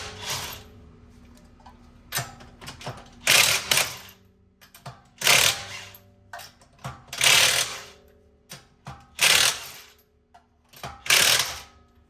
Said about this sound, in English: is a 1/2-inch impact wrench. This is a DeWalt 20 volt.